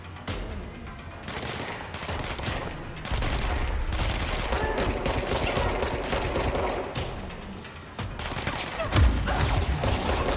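Sustained gunfire in the video game Control, a dense fusillade of rapid shots and booms filling the whole stretch, loud and continuous with a heavy impact near the end.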